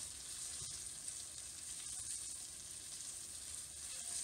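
Thin wild trout fillets frying in hot oil in a pan, giving a steady, close, continuous sizzle and crackle with no one talking.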